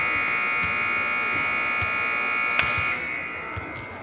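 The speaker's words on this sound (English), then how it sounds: "That last shot made it at the buzzer." A buzzer sounds in a steady, loud drone to end a round of a men's college basketball three-point contest in a gym, then cuts to quieter room noise near the end.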